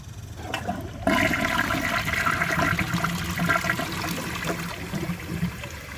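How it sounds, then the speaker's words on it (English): A 2007 Corona Aquajet toilet flushes: a sudden loud rush of water that keeps gushing and swirling steadily for several seconds, heard up close. "So let's give it a flush."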